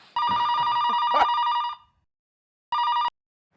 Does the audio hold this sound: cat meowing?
no